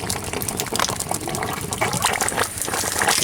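Water gushes steadily out of a solar hot water pipe, forcing trapped air out in a loud, continuous splashing rush with sputtering bursts throughout.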